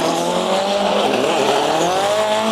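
A drift car at Orlando Speed World squeals its tires in a loud, continuous skid, the engine roaring and its pitch sliding, heard up close with no voices.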